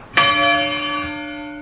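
A single church bell in Cambridge struck once and left ringing, a sharp loud onset followed by a long steady humming decay of clear overtones, close by near the door with no voices.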